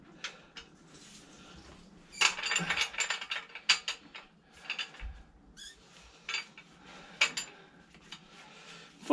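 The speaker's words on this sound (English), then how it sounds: "I'm going to need my ratchet with my T40, because it's T40 spline at the top" Ratchet fitted with a T40 bit working on a Citroen C4 Grand Picasso front strut top mount, giving quick irregular clicking and clattering bursts, close by, with metallic handling sounds between.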